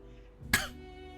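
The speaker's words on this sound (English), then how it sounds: "I clear my throat." A single short, sharp throat clearing rises from a quiet room, close and brief, with a soft hum of background music around it.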